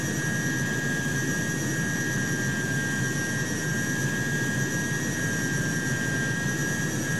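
Jet engine in Microsoft Flight Simulator spooling up for takeoff, a loud, steady, broadband roar with a high whine that holds constant throughout, no talk over it.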